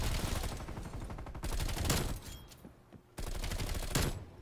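Unsuppressed Bullfrog submachine gun fire in Black Ops Cold War, rapid automatic bursts in three loud stretches with a brief lull between, close and dense with in-game action noise.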